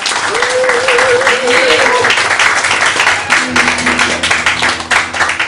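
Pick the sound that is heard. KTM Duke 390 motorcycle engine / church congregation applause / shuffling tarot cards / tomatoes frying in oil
church congregation applause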